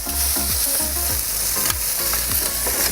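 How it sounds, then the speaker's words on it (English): Cherry tomatoes sizzle and spit in hot olive oil in a wood-burning oven, a steady loud frying hiss with repeated stirring scrapes as they are moved around. "the sizzling sound that the tomatoes"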